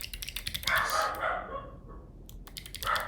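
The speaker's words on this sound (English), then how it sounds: "Sorry about the dogs barking" Dogs bark at home in short, irregular bursts that come through fairly clearly, with quick clicking sounds mixed in around them.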